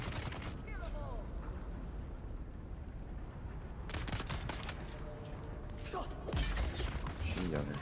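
Machine gun fire sounds in the video game Dune: Awakening, with bursts of rapid shots and thuds against a steady rumbling backdrop, plus some mechanical clanks and voices in the mix.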